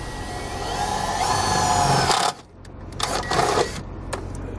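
A power drill whines steadily, boring a screw hole into a vehicle panel, then cuts off sharply before a couple of shorter bursts of drilling and rattling follow, close and loud.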